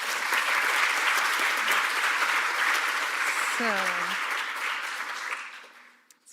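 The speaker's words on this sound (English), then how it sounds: "can I have a round of applause for all the speakers?" Sustained applause from a conference audience for the day's speakers, a dense steady wash of clapping that fills the room and fades out near the end as a voice begins to speak.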